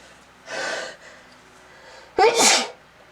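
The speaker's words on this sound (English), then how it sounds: "with me sneezing first." A single close, forceful human sneeze, preceded by a sharp inhaled gasp, in a quiet room.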